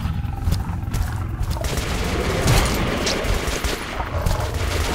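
Continuous heavy gunfire from the video game Metro: Last Light, a dense rattling barrage with booming impacts that stays loud for the whole stretch without pause.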